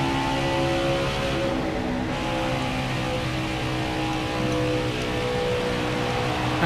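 A steady, droning race car engine hums on and on at Charlotte in the NASCAR Heat 5 video game, a constant loud roar with no clear revving or gear changes and no speech.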